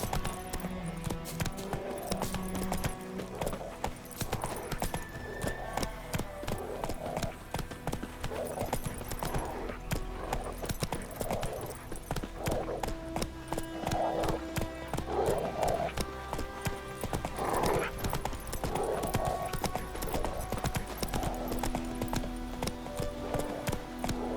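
Horse hooves gallop at a steady clip-clop rhythm in The Witcher 3 video game, the rider on horseback crossing the White Orchard area, with game music running underneath throughout.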